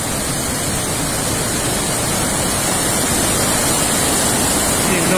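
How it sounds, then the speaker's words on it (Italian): Swollen Tanaro river in heavy rain roars steadily beneath a bridge, a dense, unbroken wash of rushing water that stays loud and constant throughout, with no voices. "il rombo del fiume."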